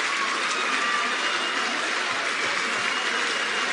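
Applause from a large snooker crowd after a 1000th career century, a steady, dense wash of clapping that holds evenly through the moment with no voices over it.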